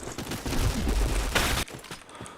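Gunfire in a shooter video game: a dense, loud burst of rapid shots with heavy low boom, ending abruptly, then a short quieter tail.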